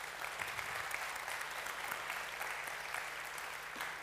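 A conference audience at an opening session claps for a keynote speaker being introduced, sustained, evenly textured applause from a seated crowd, fairly soft and distant, with no speech over it.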